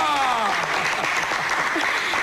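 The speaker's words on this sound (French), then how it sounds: "Alors, on applaudit pour Ridi Ngouya." Audience applause at a broadcast event in a crowd setting, a steady patter of clapping with a voice speaking over it at the start, continuing at moderate level throughout.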